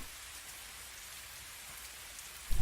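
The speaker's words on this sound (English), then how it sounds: "Overhead, the rain had begun to intensify." Steady rain falling, a constant hiss of drops at even loudness throughout, with a brief louder thump right at the end and no voices.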